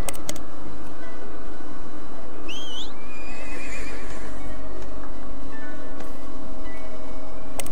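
A horse in the video game ArcheAge whinnies shrilly once, near and clear, over a constant mechanical rumble and faint background noise.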